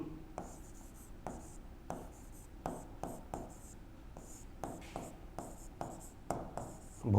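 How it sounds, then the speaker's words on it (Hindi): A pen scratches across paper in quick, close strokes with short taps and pauses between words, steady and fairly quiet, with no voices. "वापिस लिखते हैं, भीम सिंह,"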